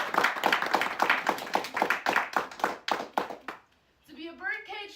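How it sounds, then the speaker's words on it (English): An audience at a poetry reading at Barb's Books claps in a quick run of sharp, fairly close handclaps that fade out near the end, after which a voice begins speaking. "Let's everyone give a round of applause."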